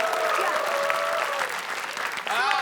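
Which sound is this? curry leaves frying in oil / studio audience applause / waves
studio audience applause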